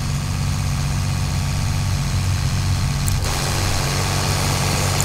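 A Sonalika 60 DI tractor engine in Farming Simulator 22 drones steadily at a constant low idle-like hum, loud and unbroken throughout, with no talk.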